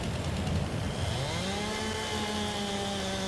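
A chainsaw in the Farming Simulator video game, engine revving up from idle into a high, steady whine that holds, loud and alone with no talk.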